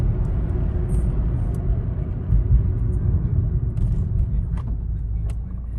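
Car with an automatic transmission, torque converter locked up, coasting down to a stop: a steady low road rumble and drivetrain hum inside the cabin, easing gradually with no talk.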